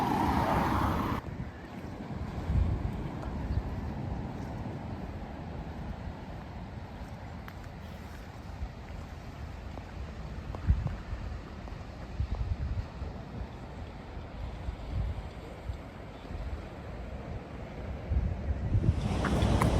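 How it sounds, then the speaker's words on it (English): Steady gusty seaside wind in Ballycastle rumbles and buffets the microphone for a long stretch, with the broad hiss of open air and no speech. "there are quite a lot of gusts still about in Ballycastle today"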